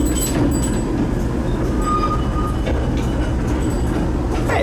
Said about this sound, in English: Not a bad little train actually.